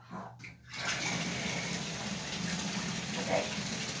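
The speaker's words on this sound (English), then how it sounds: "You guys, I gotta add cold water to this." Tap water runs steadily into a bathtub being filled, a continuous broadband gush after a brief quiet start, close and fairly loud with no talking.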